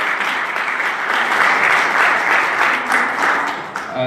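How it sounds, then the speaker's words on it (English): A room full of people at a veterans town hall applauds Vietnam veterans, with loud, dense, continuous clapping that holds steady throughout and thins briefly near the end. "if everybody would join me in applause for them"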